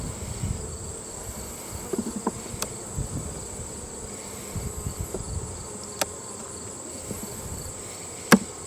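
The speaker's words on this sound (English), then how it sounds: "Well, we got bees." Honey bees humming steadily in an opened beehive being worked after storm damage, a constant drone with light insect buzz, occasional knocks and a sharp click near the end.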